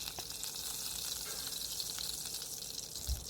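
Cumin seeds sizzle in hot coconut oil in a pot, a close, bright, steady hiss that holds evenly for a few seconds, ending with a small knock.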